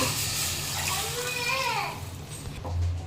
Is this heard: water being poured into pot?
yes